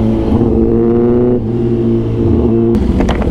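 A BMW S1000RR sport motorcycle engine revs loudly and steadily up close, with a rising throttle surge near the end and no voices present.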